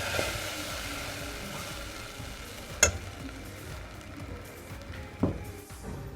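Butter melting in a hot pan gives a soft, steady sizzle and frying hiss, with a couple of sharp clinks from a spoon against the pan.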